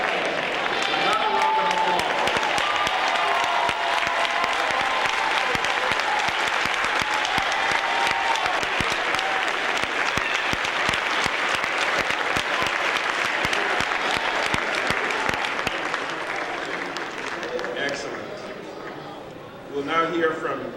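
Sustained audience applause at a university event, a loud, dense wash of clapping that continues for about twenty seconds before tapering off, with a few voices briefly audible at the end.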